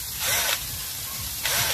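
Two bursts of compressed-air hiss from a pneumatic drill boring into a rubber tree during latex tapping, loud and close, separated by a steady lower background hiss.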